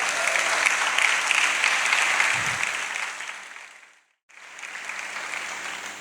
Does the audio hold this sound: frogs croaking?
no